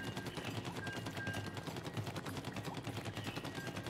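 A weapon in the video game Splatoon 3 fires ink in rapid, rhythmic bursts, a steady stream of repeated shots over game background sound, with no talking.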